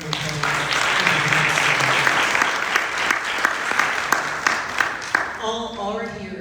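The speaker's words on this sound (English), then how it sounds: "Can you please give them all a round of applause?" An audience applauds panel guests at a community discussion on COVID-19 and healthcare, a loud, dense round of clapping that fills several seconds before tapering off as a voice begins speaking.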